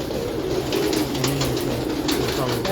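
Pigeons coo in low, throaty rolls, fairly close and steady across the moment, with faint voices talking in the background.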